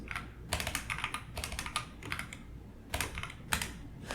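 Rapid bursts of key clicks on a computer keyboard while writing a C program, close and crisp, coming in uneven flurries with brief pauses and no speech.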